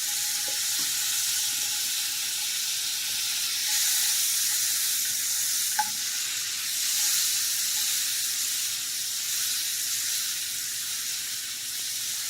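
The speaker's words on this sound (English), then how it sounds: "we're going to put in a half stick of butter, which is 4 tablespoons, and we're going to let it melt, and we're going to add these apples" Butter melts and apples sizzle in a hot skillet, giving a steady, even frying hiss throughout with a few faint utensil clicks and no voices.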